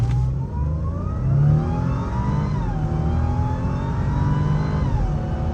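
A supercharged German luxury car launches from a standstill at full throttle with traction control in sport mode, its engine note climbing steadily through the gears in a loud, continuous roar with a brief dip at each shift.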